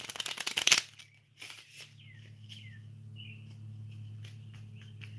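A brisk burst of tarot card shuffling up front, then a quieter riffle, followed by birds chirping faintly over a steady low hum.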